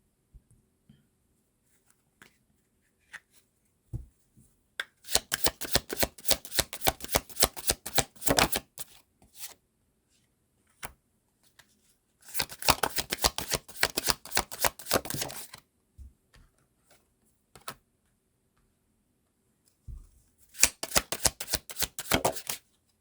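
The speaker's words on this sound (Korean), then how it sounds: "한번 카드 뽑아서 보도록 할게요." Tarot cards shuffled and drawn in three bursts of rapid riffling flutter, each lasting a few seconds and separated by quiet gaps with scattered soft taps of cards set down.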